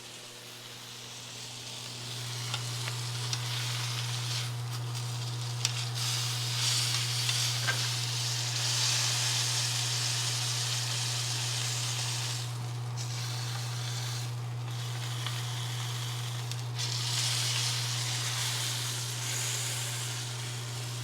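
A wagyu steak sears in a hot pan with a steady, bright sizzle that holds near and continuous, with an electrical hum running low beneath it.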